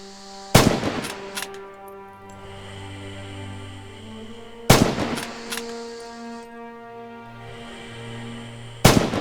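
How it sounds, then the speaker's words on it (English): Rifle shots fired at targets downrange on a practice range in Red Orchestra 2: Heroes of Stalingrad, three sharp, loud single cracks spaced several seconds apart, each followed by a lingering ringing tail over quiet ambience. "Practice dialing in the range and fire on the targets downrange."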